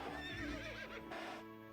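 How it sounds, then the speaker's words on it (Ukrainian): Horses neigh and whinny in a horse-riding video game, with hoof clip-clop underneath; the calls are close and loud across a short stretch. "тут є коні"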